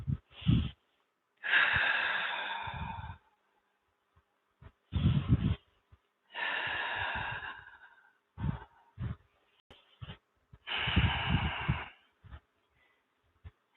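Deep yoga breathing, slow alternating inhales and exhales in long airy rushes with short pauses between, close and alone.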